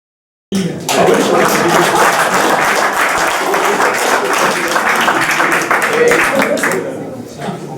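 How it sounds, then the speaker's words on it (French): Sustained, loud clapping from a group at an outdoor civic ceremony with a prefect, before a wreath-laying, starting abruptly after a brief silence and thinning slightly at the end. "Allez, on les applaudit."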